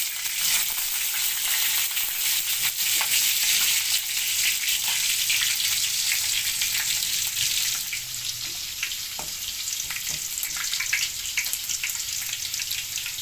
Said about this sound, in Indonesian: Goreng sebentar sampai bawang mulai kecoklatan.